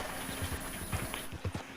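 Horse hooves in Red Dead Online clopping in a quick, steady rhythm while the horse runs through a river, fairly close and clear.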